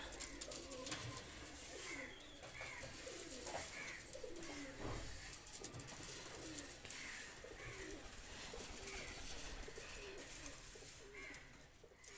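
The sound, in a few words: pigeons cooing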